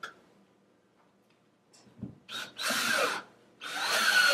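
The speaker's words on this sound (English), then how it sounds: "I'll take a screw and a drill bit." A power drill whirs in two bursts, loud and close, driving a screw into a donor cube wall block, after a few faint knocks and clicks.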